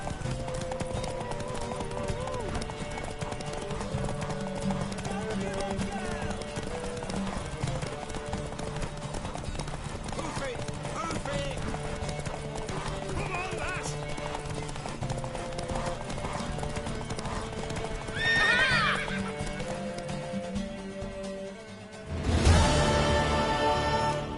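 Hooves clip-clop steadily and close throughout in a horse-riding scene, with a brief louder burst near the end; no clear neigh stands out.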